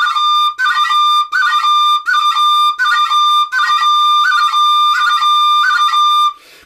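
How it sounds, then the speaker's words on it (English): Tin whistle playing crans, fingers drumming rapidly on the holes to make clipped ornamental bursts, loud and close, in a steady repeating rhythm of short phrases with brief gaps between them. "the rhythm is found in your finger drumming on the holes of the whistle"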